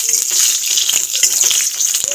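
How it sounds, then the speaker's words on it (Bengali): Pea lentil badi frying in hot oil in a pan for a Bengali bottle gourd dish, a steady bright sizzle with small crackles and pops throughout. "তেল গরম হয়ে গেছে, মটর ডালের বড়িটা ভেজে নেব।"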